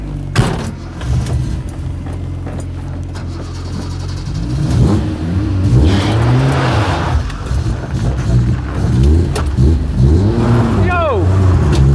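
A car engine revs and accelerates, straining and bogging in second gear, with uneven rising and falling pitch over steady road noise while people talk throughout.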